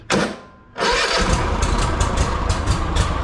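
Bad Boy MZ Magnum mower engine cranks briefly, pauses, then catches and roars into a loud steady run close by.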